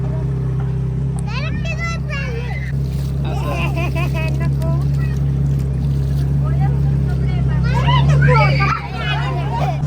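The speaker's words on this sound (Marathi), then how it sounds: "आता आपली बोट चालली बघा" A motorboat moving on water, its engine a steady low drone throughout, heard from on board while several people chatter loudly over it.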